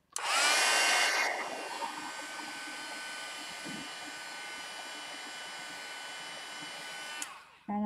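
A hair dryer blows loudly at close range for about a second, then continues at a lower, steady whir while drying a painted artwork, cutting off near the end.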